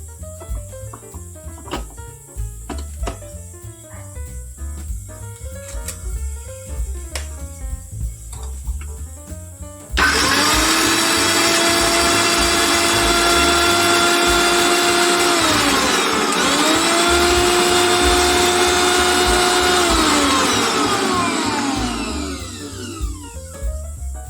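A mixer grinder blends spices with sour yogurt into a paste. After a quieter stretch of other sounds, a loud, steady motor whir starts abruptly and runs for about thirteen seconds before cutting off.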